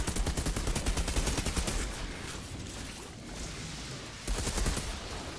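Rapid automatic gunfire in the video game Outriders, aimed at an enemy's armor, rattling in dense bursts at the start and again near the end with a lull of rumbling action between.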